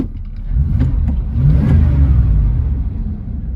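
Car engine idling at a traffic light, a close, steady low rumble with a slight swell in the middle and no talking.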